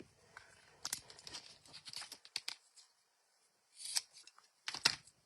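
Scissors snip trim for a Halloween stash can, giving a close series of quick cuts and crisp snips with short pauses between, fairly faint, with no talk.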